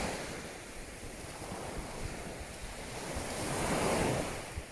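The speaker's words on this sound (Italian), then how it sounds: "Però sentite il rumore del mare, cosa vi ricorda?" Sea waves wash onto a beach on Sardinia's west coast in a steady, full roar of surf mixed with wind noise, with a swell building and peaking near the end. No one speaks.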